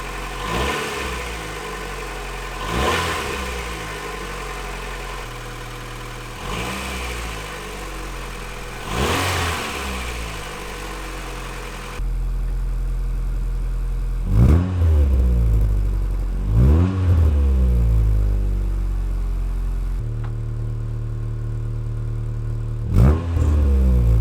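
Honda Integra DC2 engine running after a tune-up with new plugs and filters, idling steadily with several sharp revs rising and falling, loud and close, no talk.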